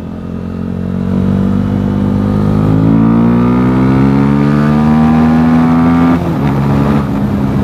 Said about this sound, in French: Oh la détonation, passage de rapport.